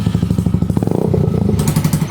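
A motorbike with a petrol carburetor on tropical Siargao in the Philippines, its engine chugging in a loud, close, rapid rhythmic putter that quickens as it pulls away.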